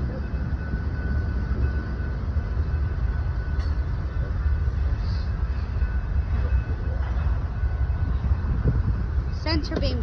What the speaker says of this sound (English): Center beam car, nice.